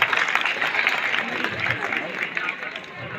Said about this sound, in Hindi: जोरदार तालियों से अभिनंदन नाम का